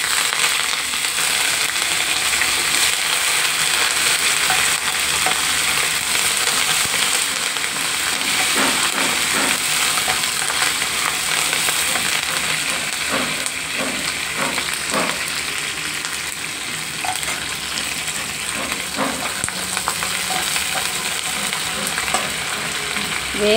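Mustard seeds, cumin, green chillies and curry leaves fry in hot oil with a constant, close hiss, sprinkled with small crackles and pops, plus occasional stirring taps throughout.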